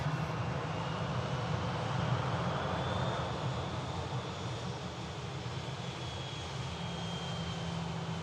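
An EasyJet airliner's jet engines roar steadily at Manchester Airport, a broad, even rumble with a thin rising whine, heard at moderate distance with no talk.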